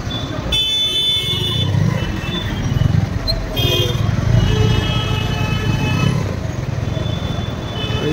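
Road traffic stuck in a jam in Kashmir, a steady rumble of idling and creeping car and bus engines close by with occasional horn toots and a motorcycle, voices mixed into the din.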